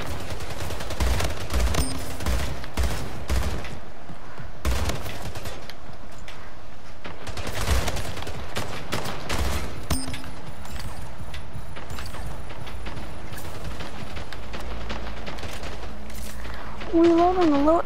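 Rifle fire in a PlayStation 4 shooter rings out in rapid bursts and single cracks across the whole stretch, loud and close, with brief pauses between volleys and busy game noise underneath.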